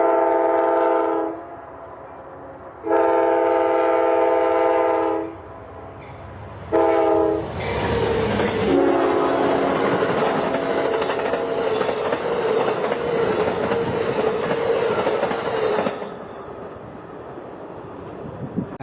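The California Zephyr passenger train rumbles along the rails with a steady, loud roar, preceded by several long blasts of its horn.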